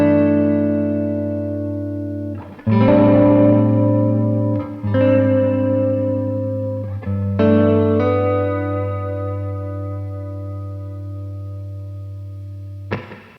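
Clean electric guitar chords ring out and sustain, struck a few times with long decays, played alone without voices.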